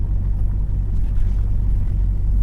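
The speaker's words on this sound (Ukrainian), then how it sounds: "Можна сказати, навіть не під'їхали, а прискакали по цим горбам, ямам." Car driving over a bumpy, potholed road in Italy, a loud steady low rumble of tires and engine from inside the cabin, with occasional thuds and no voices.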